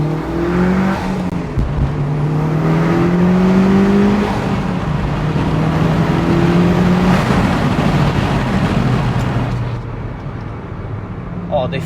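A tuned 400 bhp four-wheel-drive Mitsubishi Evo 8 FQ300 with a 4G63 engine revs hard several times, the exhaust crackling with pops and bangs between rises, loud and close before dropping away near the end.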